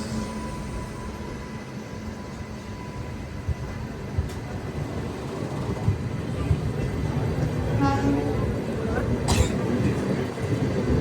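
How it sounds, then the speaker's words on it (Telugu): Prasanthi Express passenger train running past, a steady broad rumble of wheels and carriages that builds slightly louder toward the end, with a brief higher tone near the close. "ప్రశాంతి ఎక్స్ప్రెస్."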